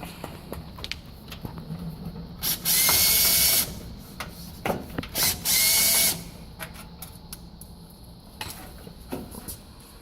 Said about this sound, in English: Put those 4 screws back in.